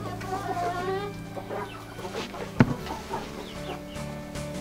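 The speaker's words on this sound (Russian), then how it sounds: "вот эта курочка" A hen clucks softly amid a busy farmyard, with other birds calling and one sharp knock partway through.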